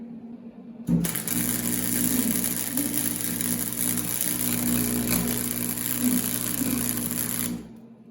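An arc welder lays a root pass for a pressure welding test, a steady, close crackling hiss with a constant hum that starts abruptly, holds for about seven seconds, then cuts off.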